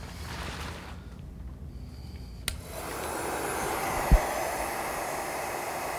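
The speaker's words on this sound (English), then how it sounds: "we're going to turn on our heat gun" A heat gun runs steadily as a broad airy blower hiss, warming up to shrink insulation on spade lug terminal connectors, with a brief click partway and a faint thump near the end.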